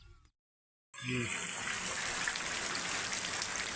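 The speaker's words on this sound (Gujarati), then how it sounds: "હાલો જો વરસાદ તો ફૂલ વરવા માંડ્યો" Heavy rain pours down in a dense, loud, steady rush that starts abruptly after a moment of near silence and continues unbroken.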